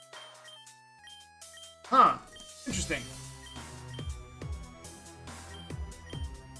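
A phone ringtone plays a stepped electronic melody of repeated tonal notes, mixed with game audio from a Pokémon Reborn session, while someone talks briefly over it.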